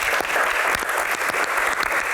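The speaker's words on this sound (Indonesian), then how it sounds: "Tepuk tangan." An audience claps steadily and evenly through a short burst of applause during a studio Q&A programme, moderately loud and close, with no other sounds.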